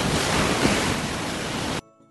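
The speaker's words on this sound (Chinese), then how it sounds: "这个海浪已经打到路上，你看这个路都湿了。" Big sea waves crash and surge against the Qingdao seafront along East Sea Road, a loud continuous roar mixed with wind buffeting, cutting off abruptly near the end.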